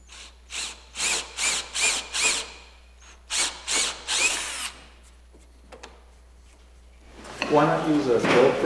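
A handheld drill boring a compound angle hole runs in several short bursts of whirring, then a few faint knocks, and finally a heavier grinding stretch near the end.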